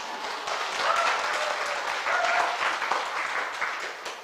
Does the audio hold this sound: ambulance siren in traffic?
no